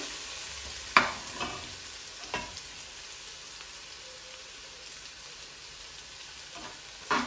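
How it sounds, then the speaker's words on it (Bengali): Whole cumin seeds and onions frying in oil for a Sylheti meat pilau, heard as a soft continuous sizzle with a few sharp clinks of a utensil against the pan, and no voices. "আস্তা জিরা আর পেঁয়াজ ভাজব সুন্দর করে দিল লগে"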